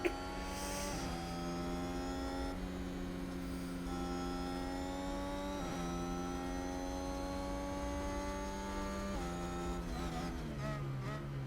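Formula 1 cars circle the track in the management game Formula 1 Manager 2022 at the Spain circuit, a continuous high engine whine with shifting pitch as several cars pass, loud and without talk.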